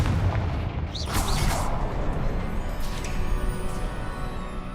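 A Confringo blasting spell bursts in Hogwarts Legacy, a loud booming explosion with a sharp crack near the start and a rumbling tail that fills the clip alongside steady game ambience.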